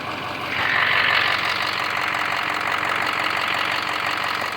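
A vehicle engine with a busted cold-side CAC pipe runs steadily and loudly nearby, a dense continuous drone with a brief swell in intensity early on, no voices over it.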